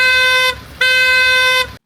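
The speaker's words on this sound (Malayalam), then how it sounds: "പിന്നിൽ നിന്ന് ഹോണടിയോട് ഹോണടി." Two long, loud car horn blasts sound in a Kashmir traffic jam, each held about half a second to a second with a short gap between them, bright and steady against low road rumble.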